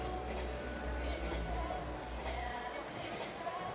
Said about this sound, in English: Crowd building up, the stadium getting fuller.